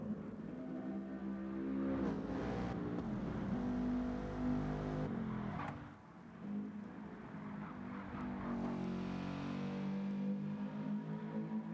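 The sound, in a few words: race car going out on track for practice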